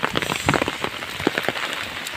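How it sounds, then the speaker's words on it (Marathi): Steady monsoon rain patters densely on a surface nearby, a loud continuous hiss with small irregular drips. "इकडे पाऊस आहे ना सकाळपासून पाऊस खूप लागतो आहे"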